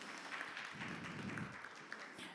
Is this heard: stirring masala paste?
no